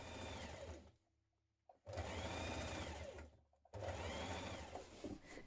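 A sewing machine stitches a jacket seam in bursts: two long runs of steady mechanical whirring separated by brief pauses, close and moderately quiet, with no talk.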